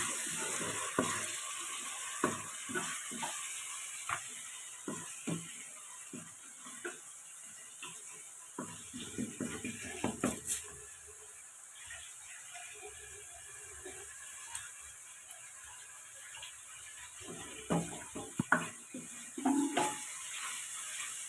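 Curry leaves and star anise fry in hot oil in a pan with faint, intermittent sizzling and crackling pops, plus occasional clinks and stirring, all quiet and close.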